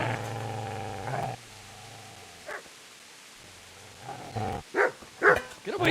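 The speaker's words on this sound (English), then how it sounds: "Get away, you mutt!" A dog barks and growls, a low rumbling snarl early on and then a run of sharp, loud barks close by toward the end.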